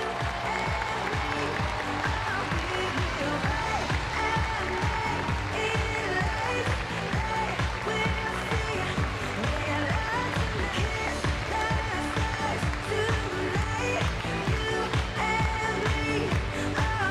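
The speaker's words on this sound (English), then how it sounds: "Would you like to come round the arena and give them a big round of applause?" Steady sustained applause from the audience at Crufts after a freestyle heelwork-to-music dog routine, dense clapping that continues evenly over background music through the whole stretch.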